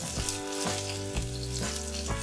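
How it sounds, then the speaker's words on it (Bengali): Chopped onion, dry red chilli and black cumin sizzle steadily in hot mustard oil in a kadai, a close, continuous frying hiss with a faint tonal hum underneath. "কড়ায় 1 টেবিল স্পুন সর্ষের তেল গরম করেছি, এবার এর মধ্যে শুকনো লঙ্কা আর কালো জিরেটা দিয়ে দিলাম, সেই সাথে সাথে দিয়ে দিচ্ছি পেঁয়াজ কুচি"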